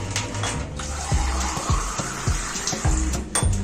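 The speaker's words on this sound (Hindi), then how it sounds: "ऐसे खुले बर्तन में हमने पानी डाल लेना है," Plain water is poured into a large open metal pan in a home kitchen for cooling rabri milk, making a steady splashing, trickling flow with repeated low gurgling surges, close and moderately loud throughout.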